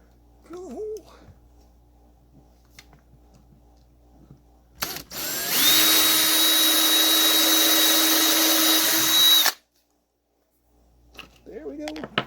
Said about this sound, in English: Let me drill a hole down in here.